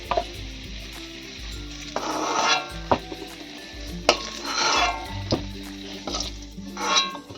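Fried potatoes are lifted and stirred out of a sizzling pan, with repeated utensil scrapes and clinks over constant frying hiss.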